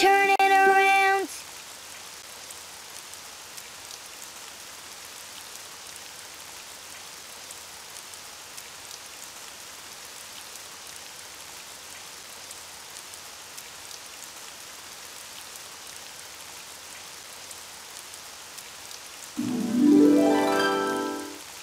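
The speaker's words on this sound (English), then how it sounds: "Oh, it's raining outside." Soft, steady rain patters in the background of a Spanish-language Daniel Tiger cartoon for a long stretch, with brief louder sounds at the start and near the end.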